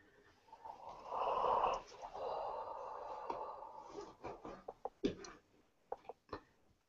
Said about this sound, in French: Tu as baillé